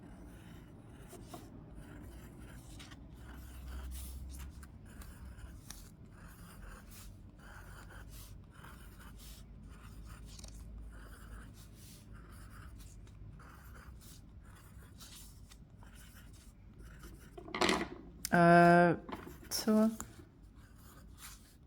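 Soft, continuous scratchy strokes of a pen or pencil looping circles across paper while drawing with eyes closed, close and faint, followed near the end by a few louder breathy vocal sounds and a brief spoken word.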